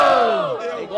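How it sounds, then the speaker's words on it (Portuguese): A crowd at a Brazilian freestyle rap battle, a student battle in Guarulhos, roars and shouts in a dense, loud, continuous wall of voices lasting about a second, with high-pitched yelling on top. "Quem gostou das rimas do Vitinho faz muito barulho"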